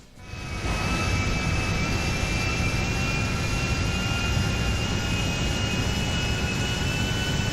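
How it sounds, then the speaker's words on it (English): Video game jet engines spool up in stages, a steady loud roar with a high whine that rises quickly after a brief quiet start and then holds constant; no voices. "They spin up kind of weird because the jets go in stages with the engine."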